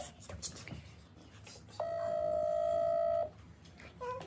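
A WhatsApp call rings with a loud, steady electronic tone held for about a second and a half, framed by quiet background murmur and faint clicks.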